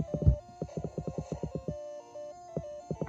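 Pokémon Gold played on a Game Boy, chiptune game effects and music with rapid repeated blips, sustained square-wave tones and a quick rhythmic sequence, alone.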